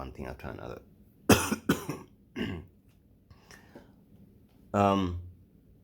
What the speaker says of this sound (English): this stubborn cough now